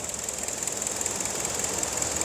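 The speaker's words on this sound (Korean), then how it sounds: "냉각팬도 잘 돌고" A car's radiator cooling fan spins with the engine running, a steady whirring hum with a faint rhythmic engine knock underneath, continuous and close.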